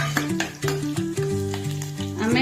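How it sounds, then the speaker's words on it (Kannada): Crushed garlic and ginger hit hot oil in a pan for a vegetable pulao, giving a close sizzling hiss under a bright tonal background, with light clinks of a spoon and no speech. "ಒಂದು ಸ್ಪೂನ್ ಬೆಳ್ಳುಳ್ಳಿ ಮತ್ತು ಅಲ್ಲ ಜಜ್ಜಿಟ್ಟೇನಿ ರೀ, ಅದನ್ನ ಸ್ವಲ್ಪ ಹಾಕ್ತೀನಿ ರೀ"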